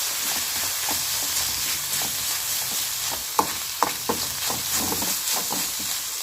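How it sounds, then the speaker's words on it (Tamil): Chicken with spices is stir-fried in a pan for a samosa filling: a steady, moderate sizzle with scattered spatula scrapes and a few sharper knocks, close and without talking. "சேர்த்து இப்போ இது எல்லாத்தையும் இந்த சிக்கனோட சேர்த்து நல்லா வதக்கி விட்டுக்குவோம்."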